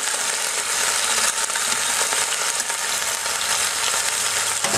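Turkey drumsticks sizzle and fry in olive oil in a Cuisinart electric pressure cooker on browning mode, making a steady, loud, dense crackle that runs throughout with no talking.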